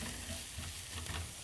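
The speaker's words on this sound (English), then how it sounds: "we can saute this onion and garlic together and add that to the beans" Onion and garlic sauté in a pan for crockpot bean prep, a steady close sizzle with faint stirring scrapes, no talk.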